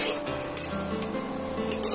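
Semolina (suji) fries in a pan for a spicy suji dish, giving a steady soft sizzle with light scraping from stirring. It stays even and close throughout, with no talking.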